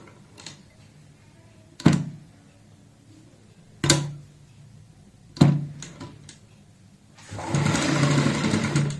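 A sewing machine topstitches a flap and pocket on a girl's designer kurta, a short sustained run of needle whirring near the end after several sharp handling knocks and thumps.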